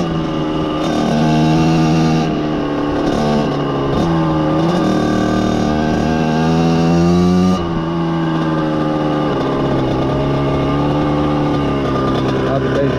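Engine of a 1988 Kawasaki KX80 motocross motorcycle, running on its first ride after 15 years stored in a barn. It sounds as a loud, steady, close two-stroke drone with rising and falling revs and no break.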